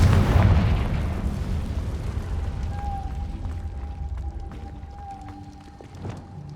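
A Confringo fire spell explodes in Hogwarts Legacy with a heavy, booming blast that rolls off into a long fading rumble, followed by a thin sustained tone.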